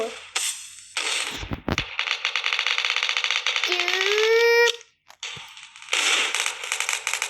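Rapid bursts of Roblox video game gunfire in a red-versus-blue team battle, dense crackling volleys that stop and start, with a rising whistling tone partway through; loud and close.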